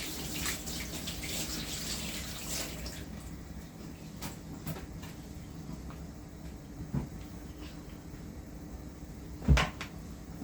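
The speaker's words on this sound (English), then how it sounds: "Get the spring onion washed." Tap water runs steadily while spring onion is washed at a kitchen sink, a continuous splashing wash punctuated by occasional knocks and a sharp clatter near the end.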